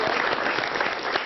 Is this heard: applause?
yes